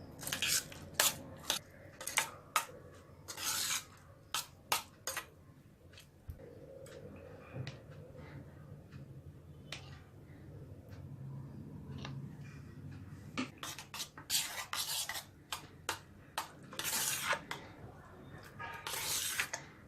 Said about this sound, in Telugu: చల్లారినటువంటి కొర్ర అన్నంలో తగినంత ఉప్పు వేసుకొని కొద్దిగా పెరుగు వేసుకుంటూ కలుపుకోవాలి